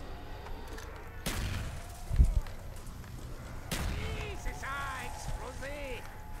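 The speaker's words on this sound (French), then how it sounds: "Ouf, il y a une bombe." Call of Duty: Black Ops gameplay with a couple of sharp blasts or gunshot cracks rising out of a busy game background, followed by tonal electronic game sounds, while someone talks in French over it.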